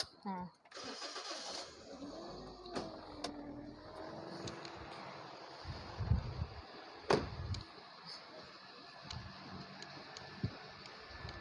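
A 1.6-litre 109-horsepower engine of a 2009 Toyota Altis cranks and catches, then settles into a steady idle hum with occasional revs; someone talks over it now and then.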